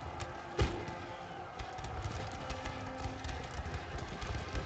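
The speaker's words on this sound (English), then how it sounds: "you can see yet more horses coming across the bridge" Horses crossing a bridge in Napoleon: Total War give a dense, steady patter of hoofbeats and rumbling movement under a constant battle din, with one sharper thump near the start.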